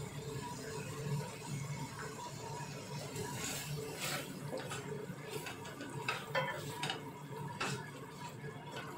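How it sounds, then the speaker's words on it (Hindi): Yogurt is stirred into a taro and meat curry cooking in a pot, quiet clinking and scraping of a spoon against metal over a low simmer, soft and close, with no one speaking. "ये दही डाल रही हूँ मैं"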